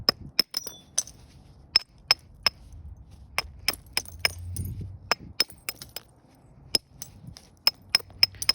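An antler striking obsidian while knapping flakes gives a series of sharp, glassy clicks and taps at irregular intervals, close up and crisp over a quiet background.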